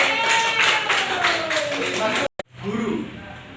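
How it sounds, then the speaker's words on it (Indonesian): A group applauds during a classroom brainstorming session, with continuous loud clapping blended with overlapping voices before a brief cut and a softer tail. "tepuk tangan buat Pak Doni"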